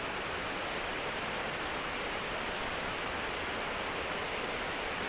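Laurel Snow Falls waterfall in a snowy, icy wilderness, a steady broadband rushing roar of falling water, constant and fairly close with no other sounds.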